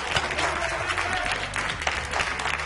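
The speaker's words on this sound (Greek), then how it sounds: "Ένα χειροκρότημα, παρακαλώ." Studio audience applause on a Greek cooking-competition show, dense steady clapping filling the whole stretch at moderate loudness with no voices over it.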